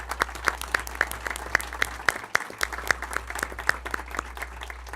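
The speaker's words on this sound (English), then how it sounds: "Let's give them a round of applause for being here as well." Clapping at a Moreno Valley city council meeting, a modest group applauding with distinct individual claps in a brisk uneven patter, moderately loud over a low steady hum.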